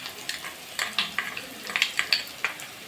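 Ginger is added to lightly fried onion in a pan, producing a soft, close crackle of frying with sharp scattered pops and spatters throughout and no speech.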